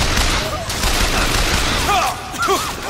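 Rapid gunfire from a weapon in the video game BioShock Infinite, a loud, dense burst of shots running through the clip, mixed with game effects and brief whistling tones.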